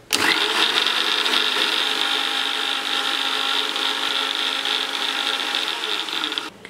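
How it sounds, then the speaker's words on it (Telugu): A mixer grinder whirs continuously as it blends fresh coriander leaves with a little water in its jar. The motor is loud and close, starting abruptly, holding a steady high whine and cutting off at the end. "మిక్సీ పట్టేసుకున్నాను."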